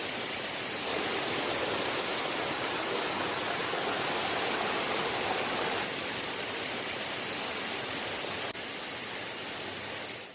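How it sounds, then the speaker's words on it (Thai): A small stream flows steadily near a cave entrance, giving a constant, broadband rushing wash of water, even and unbroken throughout with no voices. "เป็นลำธารเล็ก ๆ ที่สวยงามนะครับ"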